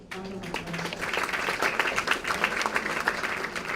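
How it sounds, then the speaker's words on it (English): An audience at a university inauguration ceremony gives a sustained round of applause for the chief guest, dense clapping rising quickly and continuing steadily throughout. "Can we please have a round of applause?"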